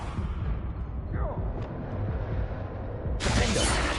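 Confringo blasting spell in Hogwarts Legacy on PS5, a sharp burst that rolls into a rumbling explosion, with a bright crackling blast near the end, loud over game noise.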